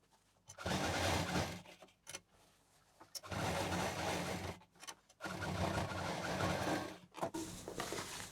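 A sewing machine stitches a strip onto a homemade cloth shopping bag, sewing in a square pattern with several loud, whirring runs of a second or two each, broken by short pauses between passes.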